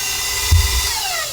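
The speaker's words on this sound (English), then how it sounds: "So we're going to go ahead and start this mixer, and we're going to mix everything together." An electric mixer whirs steadily, mixing chocolate pudding batter for whoopie pies. A loud, close motor hum holds throughout, with a brief bump near the start as the beaters dig in.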